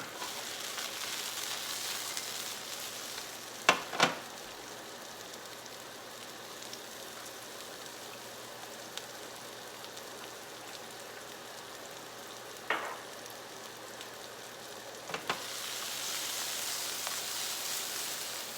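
Onions fry in a pan on a stovetop burner with a soft, continuous sizzle. A few brief knocks and clatters break through now and then.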